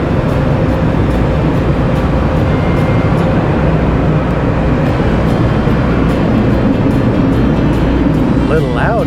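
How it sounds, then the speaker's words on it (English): Powerful wind tunnel blowers at a car wash drying a truck, a loud steady roaring rush of air filling the whole stretch without letup. "The wind tunnel is gonna get us all dried off."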